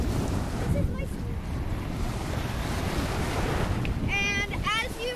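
Ocean surf at a beach washes in a steady, broad roar with wind buffeting the microphone, and a few faint high cries toward the end.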